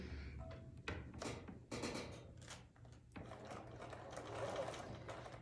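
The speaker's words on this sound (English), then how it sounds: "I'm going to sew right through the paper on that drawn line" A sewing machine whirs in short runs and stops, stitching through paper for quilt paper piecing with a steady mechanical buzz, close by, with small handling clicks between.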